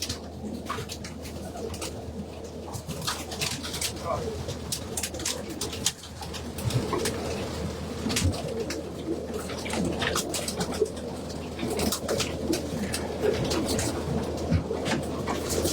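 Racing pigeons coo continuously in a loft, soft throaty calls overlapping close by with scattered rustles and flutters throughout.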